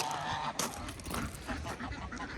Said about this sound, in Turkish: Dostlar burada da kazlar var bakın.